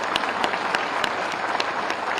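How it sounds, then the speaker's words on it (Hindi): Steady applause from a large audience at a comedy show attended by CM Yogi, dense and continuous with scattered louder claps throughout. "ताली मारिए।"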